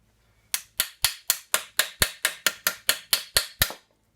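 Hammer pounding on the pitman arm of a 1947 GMC, about thirteen sharp metallic blows in a steady rhythm, close and loud, with no talking.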